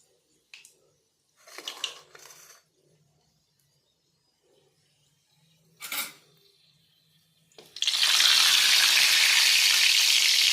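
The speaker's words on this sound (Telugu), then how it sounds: "ఎండుమిరపకాయలు తీసుకున్నాను, వేసాను." Dried red chillies for a cabbage curry tempering hit hot oil with a sudden loud sizzle after a few quiet utensil clinks and taps, the frying then continuing steadily and close.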